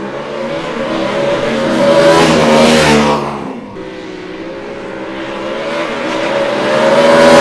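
A Harley-Davidson Sportster S motorcycle revs hard during drag races, its engine note climbing loud and close, dropping sharply mid-run, then building again to a strong roar.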